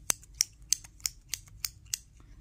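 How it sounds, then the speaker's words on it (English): Crisp, regular clicking as thread is wound onto a Clover hook tatting shuttle, seven sharp ticks about a third of a second apart, close and alone. "I am going to just wind on a little bit and we will see what it sounds like"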